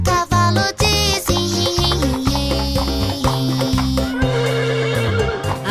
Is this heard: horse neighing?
yes